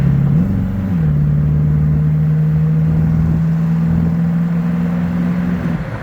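A 1964 Ford Falcon Futura convertible resto mod pulls away under throttle, its engine holding a close, steady drone that swells slightly at the start and then runs evenly for several seconds with no talk over it.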